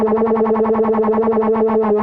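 A held note on the Hilda synth with an LFO sweeping the filter cutoff, giving a fast, even pulsing wobble of roughly eight throbs per second, loud and alone.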